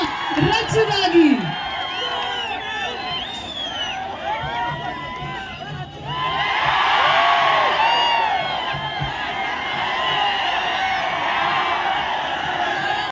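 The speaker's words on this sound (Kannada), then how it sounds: "ಜೋರಾದ ಚಪ್ಪಾಳೆ ಬರಬೇಕು ನಮ್ಮ ರಚುಗಾಗಿ." A crowd cheering and whooping for actress Rachita Ram at a shopping mall opening in Kalaburagi, a loud sustained roar of shouts that swells around the middle and carries on to the end, with a voice over a loudspeaker near the start.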